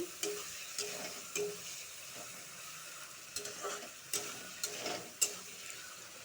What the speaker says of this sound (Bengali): সাদা সর্ষা ভালো করে লাড়াচাড়া দিব